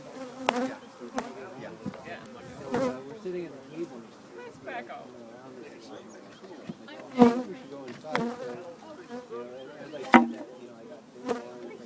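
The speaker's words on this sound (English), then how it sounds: "Yeah, they're starting to get agitated now. I can tell by the way they're buzzing." Agitated honeybees buzz around a hive as a beekeeper lets them raise a new queen, a steady insect drone with sharp knocks and bumps and people talking over it.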